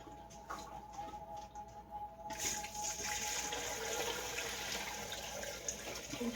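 Homemade chicken broth poured from a pot into a bowl in a kitchen: after a quiet start, a steady, moderately loud liquid pour begins partway through and runs to the end, with no talking.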